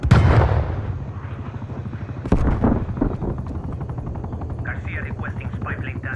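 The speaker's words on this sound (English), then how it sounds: "Hostile attack helicopter inbound." Attack helicopter in Call of Duty Black Ops Cold War on PS5, a rumbling rotor drone under bursts of gunfire and a sharp blast, with in-game radio voices and beeping alerts layered over the noise.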